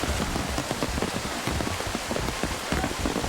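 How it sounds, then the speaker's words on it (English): Heavy rain pours at an outdoor college track and field meet, a dense, steady hiss of drops pattering on surfaces, loud and continuous throughout. "the rain has really picked up"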